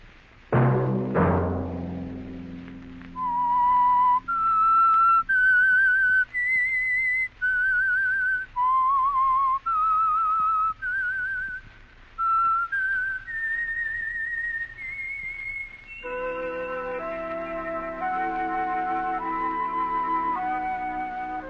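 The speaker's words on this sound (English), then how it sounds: "Let that whistle be your signal" A whistled melody of clear sustained notes stepping up and down, each held about a second, followed by a fuller held chord; no talking.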